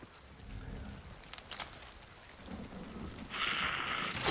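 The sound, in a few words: rain and thunder in video game Forever Winter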